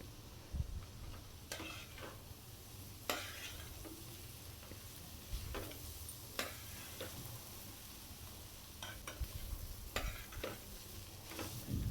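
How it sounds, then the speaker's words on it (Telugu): Shredded cabbage frying with chili powder in a pan gives a steady sizzle, with periodic scrapes and taps as it is stirred, close and fairly quiet with no voices. "దీంట్లోకి కూరకి సరిపడినంత కారం వేసేసుకుని కారం పచ్చి వాసన పోయేంత వరకు వేయించుకోవాలి"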